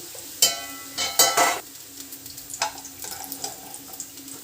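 Soya meal maker chunks fry in an oily pan for a curry. The sizzle stays steady and nearby, with a few louder bursts of stirring and scraping near the start.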